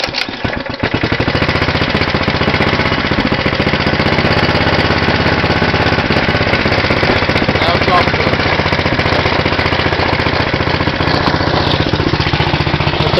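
A 6 hp Tecumseh go-kart engine, cold and choked, catches almost at once and then runs loud and steady with a fast, rough, knocking beat that holds through to the end.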